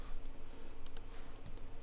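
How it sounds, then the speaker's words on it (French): Computer keyboard arrow keys, pressed while nudging an image in InDesign, give a few quiet, sparse clicks over a steady background hiss. "Puis avec les flèches au clavier, peut-être avec la touche majuscule pour que ça aille plus vite, je penche."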